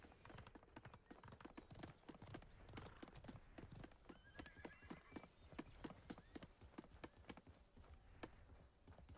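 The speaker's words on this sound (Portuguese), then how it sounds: "Cavalo." Steady clip-clop of a horse's hooves in an Xbox One video game, trotting at a brisk, even pace, fairly quiet, with a horse whinnying briefly partway through and faint voices now and then.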